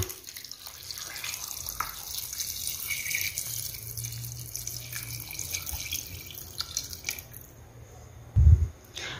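Water poured into a soup pot on a home stove, a steady running splash that carries throughout before a short, heavier burst near the end, with no voices.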